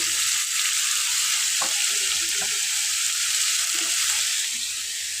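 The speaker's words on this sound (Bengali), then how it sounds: "শসাটাকে ভেজে নেব।" Cucumber fries in a pan with salt and turmeric, a constant close sizzle with a few light knocks and scrapes of stirring, the hiss easing slightly toward the end.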